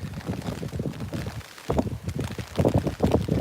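Gusty wind at midnight in the rain under cherry blossoms in Tokyo, buffeting the microphone in a steady, rough rush with louder surges, close and continuous.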